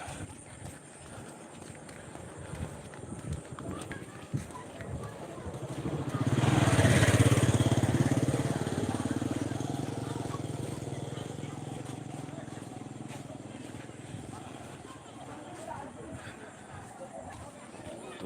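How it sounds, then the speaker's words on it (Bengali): A motorcycle engine swells from a distance, peaks loudly as it passes close, then fades away, with outdoor background noise around it. "মোটরসাইকেল আসতেছে"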